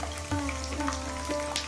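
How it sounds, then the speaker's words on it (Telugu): Cleaned Indian gooseberries (amla) fry in hot peanut oil in a pan, a steady close sizzle with small crackling pops, no speech. "నూనె వేడెక్కిన తరువాత అందులో శుభ్రం చేసుకున్న ఉసిరికాయలు వేసుకోవాలి."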